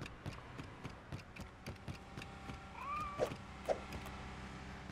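A cat in the LEGO The Incredibles video game gives two short meows over soft ticking game sounds and a low background hum, faint and brief.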